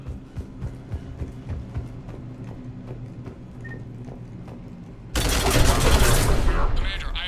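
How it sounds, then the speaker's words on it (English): Cannon gunfire in the video game Mass Effect 3: a run of sharp, regular shots at moderate volume, then a much louder, dense blast of gunfire and explosions fills the last two seconds. "The cannon fire is clearing the way."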